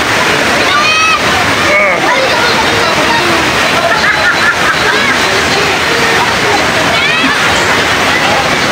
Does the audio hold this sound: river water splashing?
yes